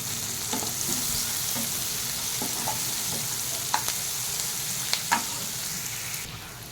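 Onion frying in oil for a bitter gourd masala curry gives a steady, moderately loud sizzle, with occasional soft clinks and scrapes from a spoon stirring the pan. No voices are heard.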